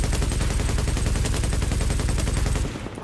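Rapid automatic gunfire from the video game The Division rattles out in a loud, continuous burst of close, evenly spaced shots for nearly three seconds, then cuts off abruptly.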